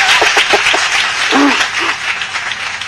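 Applause sound effect played on a talk show, a steady wash of clapping lasting about three seconds at even loudness, with a few faint voices underneath.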